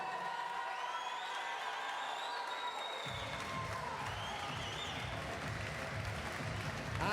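Crowd applause with scattered cheers and whoops greets an English squash player being introduced at a junior world championship semi-final, a steady wash of clapping that thickens partway through.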